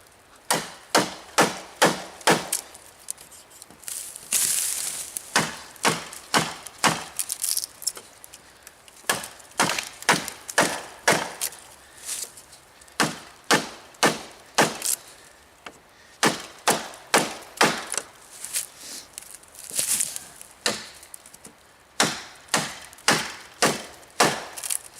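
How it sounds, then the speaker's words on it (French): An Eka W1 axe blade chops wood and knocks off chips: loud, close, sharp strikes land in steady runs of rapid blows with short breaks between sets. "il y a une grosse largeur de lame, donc on va pouvoir vraiment profiter de taper et d'enlever"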